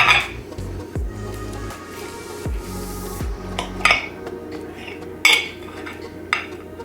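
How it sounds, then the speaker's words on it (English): A knife cuts wedges from a wheel of brie on a plate, giving a few sharp clinks and scrapes against the dish over a low steady hum, close up with no voices. "So just take that and just cut right down and cut wedges out of it"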